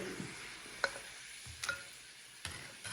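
Pork bone sauce is stirred in a pot while chicken bouillon dissolves, giving a soft low sizzle with a few distinct spoon clinks against the pot, quiet and without talk.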